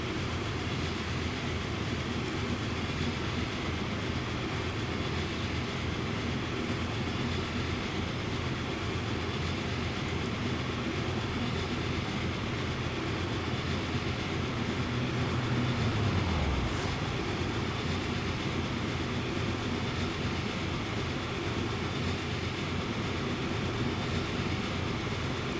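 Train locomotives run in the video game Transport Fever 2, a dense, steady rumble and hiss of rail traffic that stays level throughout, with a brief falling tone partway through and no voices.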